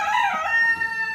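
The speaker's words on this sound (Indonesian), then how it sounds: "Ayam tuh pakai berisik segala." A rooster crows once, loud and fairly close, a drawn-out call filling the moment with no voices.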